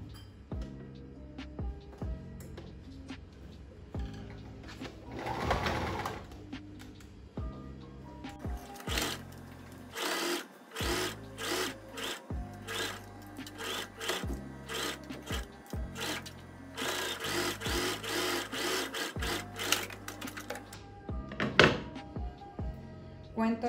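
Sewing machine stitching the shoulder seam of a basic blouse, running in short repeated bursts with pauses and rhythmic mechanical thumps, close and moderate in level.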